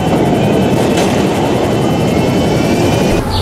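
A large airplane in GTA V roars steadily as it approaches, a dense, continuous engine rumble filling the whole stretch without any talk over it.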